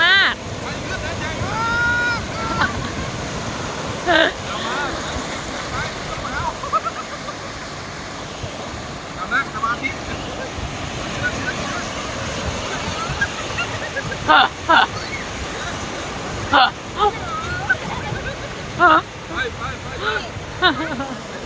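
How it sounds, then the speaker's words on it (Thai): Strong surf at Mae Phim Beach, Thailand, roars and washes continuously, with bursts of wind and splashing, while voices talk and exclaim over it. "คลื่นแรงมากเลย"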